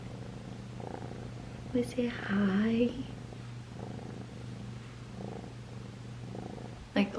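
A small black kitten purrs softly and steadily close by, while people talk quietly over it with a few brief louder vocal moments.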